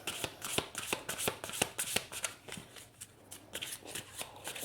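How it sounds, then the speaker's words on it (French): Tarot cards being shuffled by hand, a steady run of crisp riffling flicks and soft slaps up close, with no voices. "je vais tirer 6 cartes pour les cancers"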